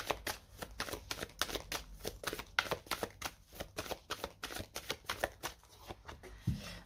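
Tarot and oracle cards being shuffled give a fast, rhythmic run of crisp flicking riffles, close and fairly quiet, ending with a soft thump as a card is drawn.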